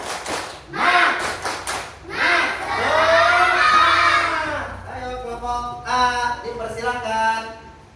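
A school group performs a rhythmic spirit clap chant, bursts of hand claps alternating with shouted, sung voices of children in a lively, patterned cadence.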